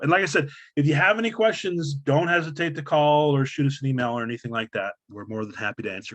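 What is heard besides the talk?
No everyday noises stand out.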